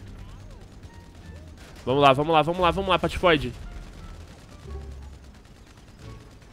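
Rapid bursts of gunfire from the video game GTA V crackle loudly for about two seconds. Someone shouts excitedly over the shots, then his voice goes on quietly afterward.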